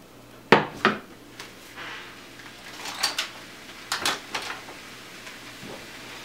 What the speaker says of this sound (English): Let's give the veggies a stir.